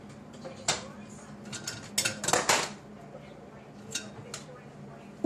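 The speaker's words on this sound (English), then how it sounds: "So I'm going to take it out of the crock pot." A slow-cooked taco roast is lifted from a crock pot into a dish, with scattered close clinks, clatters and scrapes of utensils against the cookware, busiest in the middle, over a quiet background.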